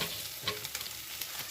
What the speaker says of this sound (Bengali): এই যে অল্প একটু জিরে গুঁড়ো দিলাম,